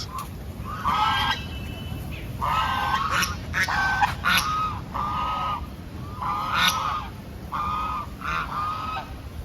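Several ducks honk and quack in loud bursts, one after another, close by with a steady outdoor hiss underneath.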